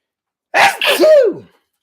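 A single loud, close sneeze, a sharp burst with a drawn-out trailing release, surrounded by silence.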